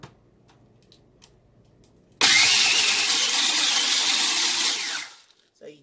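A mini food processor grinds homemade seasoning in one loud, steady whirring burst of about three seconds that starts abruptly and then cuts off, with quiet room sound before and after.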